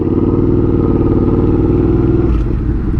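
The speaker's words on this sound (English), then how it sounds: "I need to concentrate on driving through this drive-through area" A motorcycle engine runs loud and close at low speed, rolling through a drive-through with a steady throbbing hum that eases slightly near the end. No one speaks.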